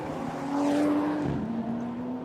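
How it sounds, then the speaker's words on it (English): A DTM Trophy race car at the Norisring street circuit passes loudly with a sustained engine note that swells, dips in pitch as it goes by, then carries on at a steady drone. "All these cars sound ridiculous."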